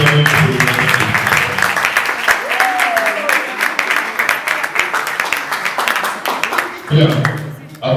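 Audience applause at a conference debate on menstruation, clapping that rises and falls across the room while voices talk over it, ending with a brief swell near the close.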